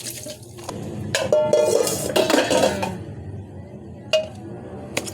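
Metal cooking pots and utensils clank and scrape close by, with clinks and knocks in an irregular clatter, while cooking a herbal soup.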